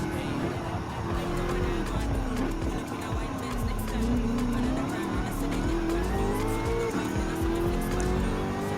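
A race car in Gran Turismo 7 drives steadily with an engine drone that rises and falls through shifts, with tires squealing intermittently through corners.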